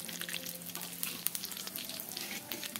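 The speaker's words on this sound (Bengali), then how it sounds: "এবার ফোড়নে দিয়ে দেবো তেজপাতা, দিয়ে দেবো আস্ত গোটা জিরে এক চামচ" Bay leaf and a spoonful of whole cumin seeds sizzle steadily in hot oil for tempering, a close, continuous crackle with a few sharper pops and no talking.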